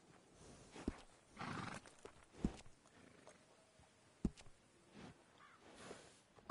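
A horse in Red Dead Redemption 2 is being groomed: soft brushing swishes alternate with a few sharp knocks and snorty bursts, set against a faint outdoor background with no talking.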